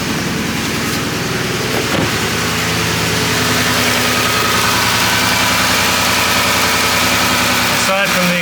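A Ford 5.4 Triton 3V V8 in a 2010 Ford Expedition idles steadily with a deep, rumbling drone and slight ticking from noisy lifters and an exhaust leak, loud and close, running continuously throughout.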